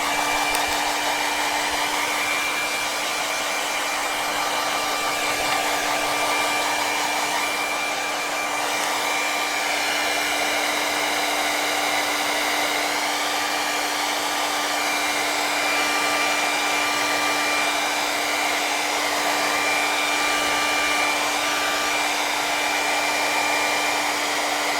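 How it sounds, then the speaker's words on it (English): A hair dryer blows continuously at high power, a loud steady whine and rush of air that holds without pause. "when I put the hair dryer on it with a high force"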